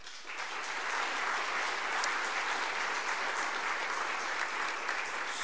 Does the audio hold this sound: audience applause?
yes